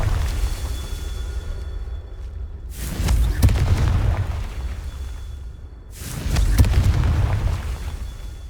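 Confringo spell explosions in Hogwarts Legacy, two deep booming blasts a few seconds apart, each followed by a rumbling decay over a low background hum.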